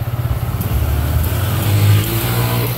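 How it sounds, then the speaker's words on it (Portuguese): A motorcycle passes on a small-town street, its mid-pitched engine loud and close, rising as it nears and then easing off as it moves away, with no talking. "Passando de moto aí."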